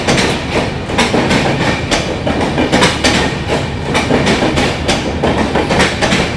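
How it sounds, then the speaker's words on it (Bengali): Howrah Jan Shatabdi Express pulling out of Madhupur station in Jharkhand, with loud, steady clickety-clack of wheels over rail joints and a continuous rumble of carriages passing close by, no voices. "আর ট্রেন ছেড়েও দিল পাটনার উদ্দেশ্যে"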